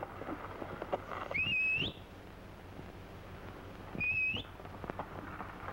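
Two short whistled calls, each a rising note that holds briefly, separated by a pause, over faint background rumble.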